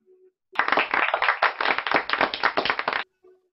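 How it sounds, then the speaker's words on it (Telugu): A class at a Christian music college claps hands, a dense burst of rapid, close claps lasting about two and a half seconds between brief moments of quiet. "క్లాప్స్"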